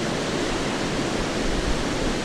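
An autumn waterfall rushing in a steady, dense roar of broadband noise, constant and close with no breaks or voices.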